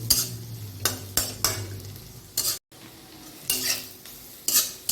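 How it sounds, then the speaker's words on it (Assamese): Spices frying in oil in a pan for a fish dish, sizzling in bursts as a spoon clatters and scrapes through them, several loud stirring strokes with a short silent break in the middle. "এয়া ভজা গৈছে"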